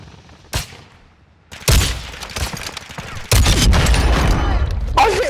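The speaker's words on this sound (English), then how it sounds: "I hit him twice with my sniper" Sniper rifle fire in Call of Duty: Modern Warfare II: a few heavy, booming shots spaced apart, the last one opening into a loud, sustained roar of battle noise.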